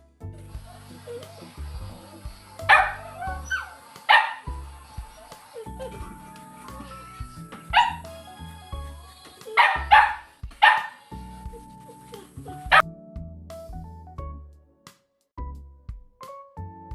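Several dogs bark in short bursts around feeding time, with loud clustered barks and yips coming close and rising in excitement amid kitchen clatter and occasional background voices.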